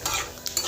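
Whole cumin seeds frying in hot oil in a pan are stirred briefly, giving a short, soft sizzle with light scraping.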